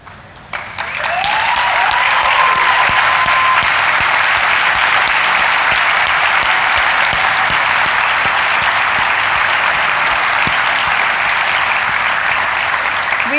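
A large keynote audience at a teachers' conference applauds first-year teachers, sustained loud clapping that starts abruptly and holds steady throughout.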